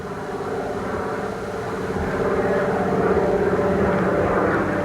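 The engine of a de Havilland Beaver floatplane drones steadily over Canadian wilderness, a continuous propeller hum that grows a little louder as the plane approaches overhead.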